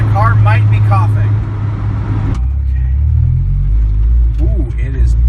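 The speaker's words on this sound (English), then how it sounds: "You think the car is coughing out of fuel?" Rally car engine sputtering and coughing while low on fuel, a loud close engine drone with uneven dips and surges, and people talking over it inside the car.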